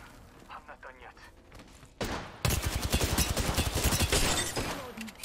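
Rapid gunfire in an Apex Legends match, a sudden loud burst of closely spaced shots that follows a quieter stretch of sparse distant pops, with game voice lines faintly mixed in.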